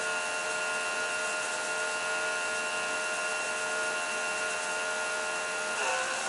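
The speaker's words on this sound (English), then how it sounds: "You're going to hear a pump change." On a Kenworth T680 truck, a fuel priming pump whines steadily and closely with a constant tonal hum, then changes pitch near the end as the pump note shifts.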